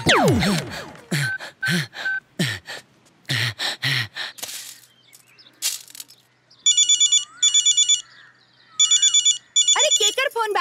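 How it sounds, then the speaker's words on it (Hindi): A mobile phone rings in a repeated electronic trill heard in several close bursts, after gasping vocal sounds and breaths at the start. "अरे केकर फोन बाजी।"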